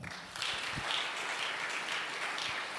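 A church congregation applauding during a sermon, a dense, steady wash of clapping from many hands that starts abruptly and carries on at an even level, heard from some distance.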